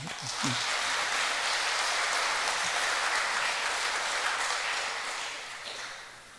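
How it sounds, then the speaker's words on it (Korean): A church congregation bursts into applause, a dense, even wash of many hands clapping that holds steady and then tapers off near the end, with no talk over it. "한번 박수 한번 합시다."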